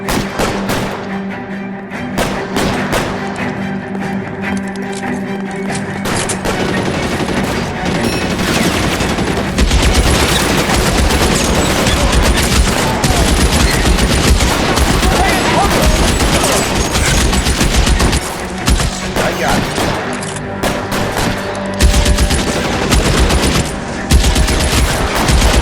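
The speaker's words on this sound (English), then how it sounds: "Lay down some covering fire." Sustained covering gunfire rattles through a shootout in L.A. Noire, dense bursts of rifle and machine-gun shots with crashes and thuds, loud and continuous for the whole stretch, growing heavier partway through.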